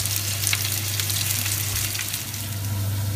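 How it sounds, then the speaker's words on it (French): Potatoes fry in a pan with a loud, dense, continuous sizzle and crackle at close range, steady throughout with no voices and a low hum underneath. "les pommes de terre commencent à bien prendre couleur"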